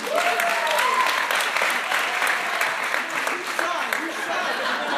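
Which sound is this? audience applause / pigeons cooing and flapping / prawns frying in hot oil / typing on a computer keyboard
audience applause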